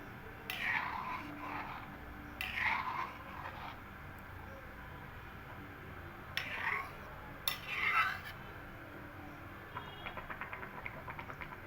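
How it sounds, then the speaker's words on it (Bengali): Rasmalai sweets stirred in thickened milk in a pot, with soft clinks and scrapes of a spoon in a few short bursts separated by quiet gaps, near and fairly faint. "খুব ভালো করে একটু নাড়াচাড়া দিয়ে নেব।"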